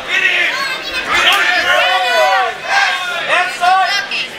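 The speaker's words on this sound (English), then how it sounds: "Some good advice from the crowd telling him to hit him" A crowd at an amateur fighting contest yells and calls out over a steady babble of voices, several overlapping shouts rising and falling throughout.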